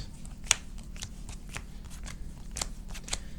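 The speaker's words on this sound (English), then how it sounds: "So now I'm gonna power shuffle so I can do some test hands with you guys." A deck of playing cards is power shuffled, giving quick crisp riffling and snapping bursts in an irregular run, close and clear, with a sharp slap at the start and further crisp snaps toward the end.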